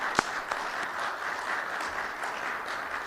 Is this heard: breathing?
no